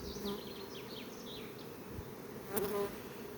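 Honeybees in a two-queen hive buzz with a steady, close drone throughout, a brief brighter rise near the end, no voices.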